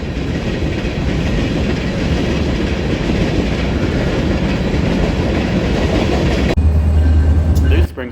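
A freight grain train rolls past at the Aberdeen, Carolina and Western Railroad interchange, loud continuous rumble and rail noise close by, with a deep low drone joining near the end before a sudden cut.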